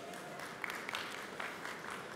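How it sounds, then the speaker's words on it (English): Faint, distant applause from an audience at a Forex expo in Dubai, a soft steady patter of clapping with a few slightly sharper claps. "Can we have a round of applause for this broker?"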